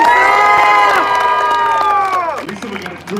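A crowd at a Bassmaster Elite bass fishing championship weigh-in cheers and whoops loudly, with a sustained yell over the roar that tapers off near the end.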